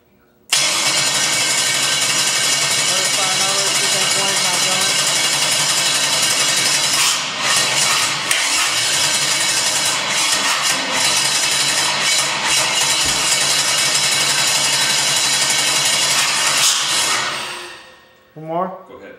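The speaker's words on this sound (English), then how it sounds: "as I turn bank 1 on, the starter should start to crank the motor over and hopefully fire up" An LS1 V8 engine, switched through a wireless relay controller, is cranked by its starter and run loud and close for about seventeen seconds before cutting off abruptly.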